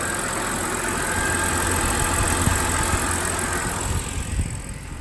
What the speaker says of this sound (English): The motor's running nice and healthy.